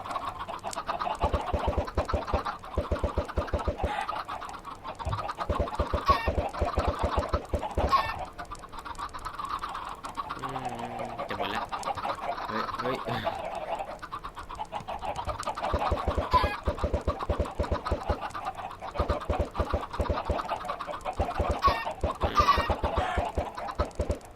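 Chickens in the video game Minecraft cluck repeatedly and continuously, many overlapping short clucks forming a dense, busy stream over a long stretch, with no talk.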